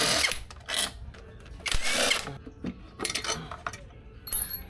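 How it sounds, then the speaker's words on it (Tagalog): An impact drill bursts in short, loud whirring runs as it loosens crankcase bolts on a Honda Click 125 scooter during CVT maintenance, with small metallic clinks between the bursts. "So gagamit ko impact drill para paspas sa itong trabaho."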